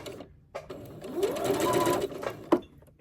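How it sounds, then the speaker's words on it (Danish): Sewing machine stitching a zipper onto fabric, a steady close-up mechanical whir lasting a couple of seconds, with brief pauses and a sharp click near the end; no one speaks. "nu har jeg syet den ene side af stoffet på, som I kan se her"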